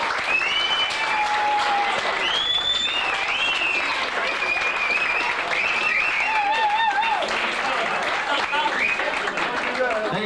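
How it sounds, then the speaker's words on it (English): Wedding guests give loud, sustained applause as a couple heads up for their first dance, the dense clapping mixed with cheers, whoops and whistles from the crowd throughout. "give them a big round of applause as they make their way up."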